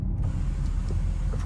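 Power window on a 2025 Jaguar F-PACE R-Dynamic S sliding down, a steady low motor whir inside the cabin over road rumble.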